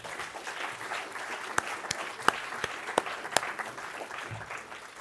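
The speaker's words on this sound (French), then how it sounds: "Vous pouvez les applaudir." Audience at a national biomass conference in France applauds the organizing team, a steady wash of clapping with a few sharp louder claps standing out, moderately distant and without talk.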